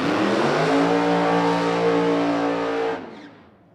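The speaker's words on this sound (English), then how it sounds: "Looks good, sounds good. That is a beautiful race car." Funny car drag race car engine revving loud and near, a steady harsh roar with strong harmonic drone that cuts off abruptly near the end, leaving a brief fading tail.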